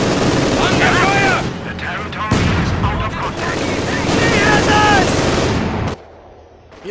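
Rapid, sustained machine gun bursts in a Company of Heroes 2 battle, loud and dense across most of the stretch, breaking off abruptly near the end, with voices talking over the fire.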